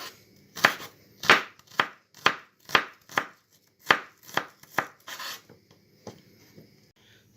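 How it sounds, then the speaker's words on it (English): Knife chopping onions on a board for stuffed dried peppers, a series of sharp, evenly spaced cuts close up, each a crisp chop, slowing and softening toward the end, with no talking. "So the onions are chopped"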